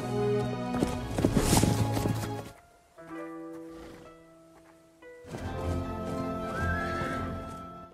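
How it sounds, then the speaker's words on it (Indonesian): A horse whinnies loudly in a film scene about a samurai, then hooves clip-clop steadily nearby, with another long neigh rising over the footfalls toward the end. "Miyuji diajarkan menunggangi kuda"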